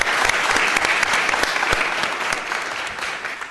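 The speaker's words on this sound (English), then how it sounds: "Please give him a round of applause." Applause at a Board of Supervisors meeting as an honoree is called to the podium, dense steady clapping from the room that tapers slightly toward the end.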